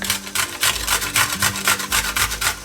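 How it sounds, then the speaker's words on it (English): Washed, unpeeled potato rubbed against a grater onto a plate, giving a steady run of rhythmic rasping strokes, close and fairly loud, with no talking. "we're going to grate a little bit of washed potato"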